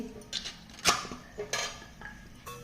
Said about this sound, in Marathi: यामध्ये ही चकलीची प्लेट घालून घ्यायची आहे